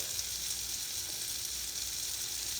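Shallots sizzle steadily in a hot pan, a continuous bright hiss holding even and close throughout with no voices over it.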